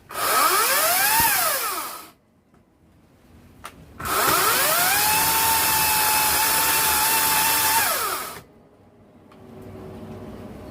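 Two bursts of a whining Ryobi 18-inch 40-volt brushless cordless electric chainsaw cutting firewood, each rising in pitch as the motor spins up and then bogging slightly under load before stopping.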